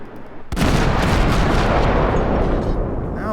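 Naval gunfire in the World of Warships video game, cruiser guns: one sudden loud broadside blast, followed by a long, dense rumbling roar that carries on for several seconds.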